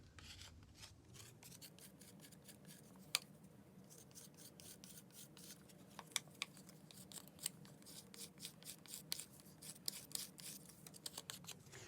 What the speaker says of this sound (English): I'm going to use my metal rib, and I'm just going to basically scrape away this yellow on top.